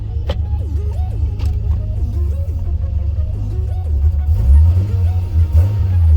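A Toyota Supra engine running on its first fuel run as the car starts moving in reverse; a deep, loud rumble with wavering, rising and falling tones that swells toward the end.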